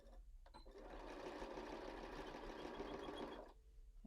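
A sewing machine back stitches a pillow in one continuous close burst of fast, even needle chatter lasting about three seconds, starting and stopping cleanly against a quiet room.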